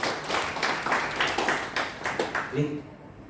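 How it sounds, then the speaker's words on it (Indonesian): A church congregation at GBI Bethany claps in a steady rhythmic beat, sharp regular bursts of many hands that stop abruptly near the end, leaving a short low tone. "Tepuk tangan buat Tuhan Yesus"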